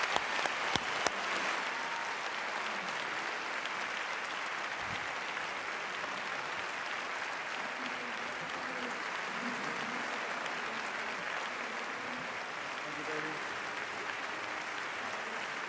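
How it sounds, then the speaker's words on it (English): Sustained audience applause at an arts and nationhood panel event, a steady wash of clapping from a sizable crowd, moderately distant and even throughout, with no speech heard. "a round of applause for 4 extraordinary people"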